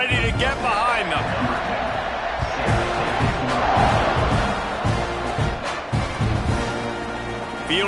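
A large stadium crowd roars at the kickoff of a Georgia vs Texas A&M football game, a dense continuous rumble with a commentator talking over it.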